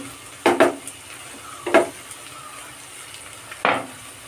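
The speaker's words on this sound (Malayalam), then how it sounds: "ഇനി ഇതിലേക്ക് ഇഞ്ചി പച്ചമുളക് വെളുത്തുള്ളി ചതച്ചത് ഇട്ട് കൊടുക്കാം" Crushed ginger, green chili and garlic dropped into a pan of frying onions give three short bursts of sizzle and stirring, separated by quieter gaps.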